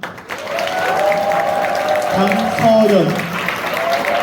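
Steady applause from a graduation ceremony audience as graduates are called forward, with a voice speaking over the continuous clapping throughout.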